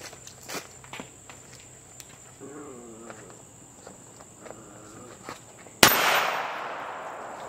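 One sharp, loud .380 pistol gunshot cracks outdoors and rings out in a decaying tail, after a quiet stretch of insects chirping and light footsteps.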